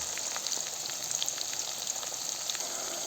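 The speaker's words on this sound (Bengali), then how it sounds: "এবার একটু ভাজা ভাজা করে নিচ্ছি পেঁয়াজ এবং রসুন" Onion and garlic sizzle steadily in hot oil, a continuous crackle dotted with small pops, with no voices.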